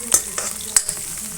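Onions with ginger-garlic paste fry in hot oil, a steady close sizzle broken by a few sharp scraping stirs of the spoon in the pan.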